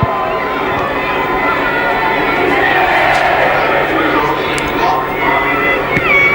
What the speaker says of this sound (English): it's not going to be easy in front of a partisan Wilderspool crowd